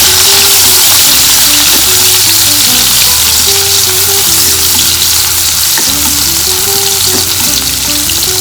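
Small onion frying in oil for a chicken dish, a loud, dense sizzle running continuously and up close, with a steady low hum of a motor or gas burner beneath it and no talking.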